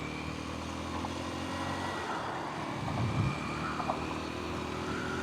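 A Kawasaki KLX230S motorcycle with a six-speed gearbox cruises along a highway in a high gear, its engine giving a steady, even drone with wind rush and one brief swell in the middle.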